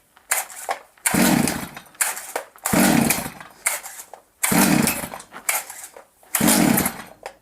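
A Stihl MS 250C chainsaw is pull-started with a series of harsh, ripping recoil-cord pulls in separate bursts with short gaps between them, close and loud, while the engine fails to catch; no one speaks.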